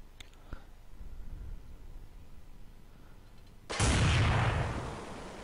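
A single loud, close gunshot from the video game Counter-Strike on the de_train map cracks sharply after a stretch of quiet game ambience, then decays into a noisy tail.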